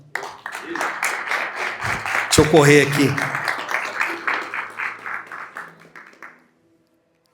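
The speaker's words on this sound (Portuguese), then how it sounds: "Vamos aplaudir o Senhor?" An audience at a church Bible seminar applauds the Lord with quick rhythmic clapping while someone talks over it, the applause swelling briefly and then dying away to silence after about six seconds.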